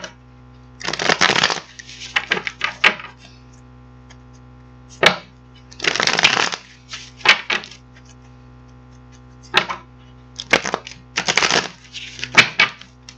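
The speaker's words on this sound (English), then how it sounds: "we're going to get these cards shuffled up" Tarot cards being shuffled by hand, heard as repeated riffling bursts at close range, each lasting about a second, separated by quiet pauses over a faint steady hum.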